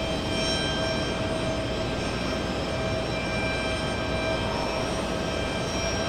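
Boeing 757 jet at JFK Airport, a continuous moderate roar with a faint whine of steady tones riding above it, no talking.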